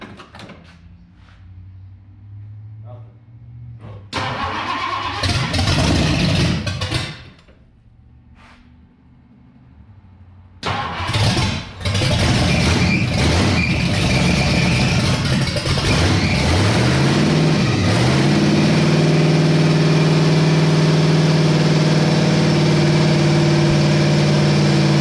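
A 1962 Mercury car engine cranks, catches and settles into a loud, steady idle close by, with earlier clunks and a brief drop before it runs continuously.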